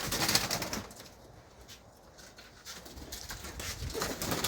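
Malwai pigeons kept by a fancier in England coo softly and irregularly amid steady background noise, with occasional wing or rustling sounds.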